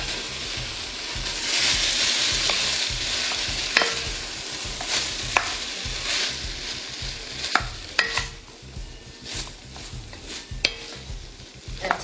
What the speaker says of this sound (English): I'm going to add the zucchini and the cauliflower. And just give it a quick stir.